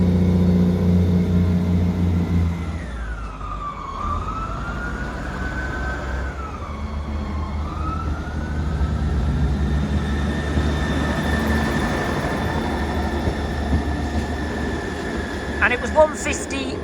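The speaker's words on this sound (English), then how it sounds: "Departing now is the 11:01 Great Western Railway service from Exeter Central to Barnstable." A Great Western Railway Class 158 diesel unit departs Exeter Central for Barnstaple, its engine rumble and rising drive tones building steadily and loud close by, with brief noises near the end.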